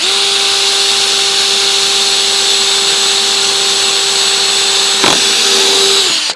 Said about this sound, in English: Drill a hole in each side of it